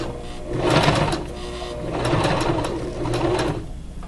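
A sewing machine stitches the side seams of a hoodie in three bursts of steady mechanical whirring, pausing briefly between runs for pivoting at the seam, close and fairly loud with no talking.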